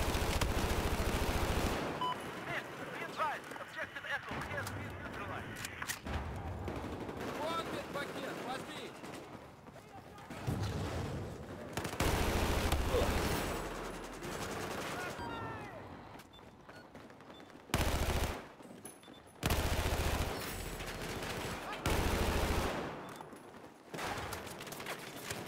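Assault rifle gunfire in a video game, loud automatic bursts recurring through a long stretch, with a voice talking at intervals between and over the shooting.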